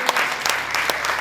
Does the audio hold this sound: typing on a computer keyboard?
no